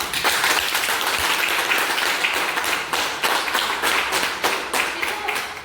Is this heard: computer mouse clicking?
no